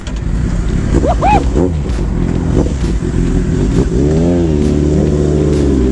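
A Kawasaki ZX10R sport motorcycle engine runs loud and steady close by, with rising and falling revs; a voice speaks briefly over it near the start.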